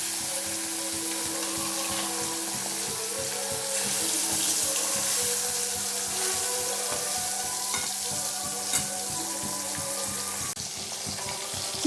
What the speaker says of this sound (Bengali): এর মধ্যে আমি পাবদা মাছগুলো আমি দিয়ে দেব এক এক করে। পাবদা মাছগুলো দিয়ে আমি ভেজে নেব।